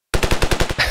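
Rapid burst of about nine automatic shots from a modded gun in the video game Ravenfield, evenly spaced and loud, ending in a short hissing tail.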